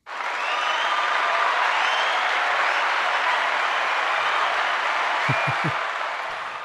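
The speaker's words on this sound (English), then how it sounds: "I definitely want to give a big round of applause to Demetrio Maguigad" Applause for a guest on a podcast episode, a smooth, continuous roar of clapping that holds steady throughout, with a few low thumps near the end.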